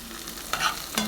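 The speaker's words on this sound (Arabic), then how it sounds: "جيبي خاشوقه وقلبي" A spoon stirs peppers frying in a pan, with a soft steady sizzle and two brief scraping strokes.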